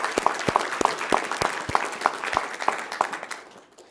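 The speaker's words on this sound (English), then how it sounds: "that's a round of applause, absolutely" Brief scattered clapping at a governor's press announcement, a few hands striking in an irregular rhythm that fades out after a few seconds.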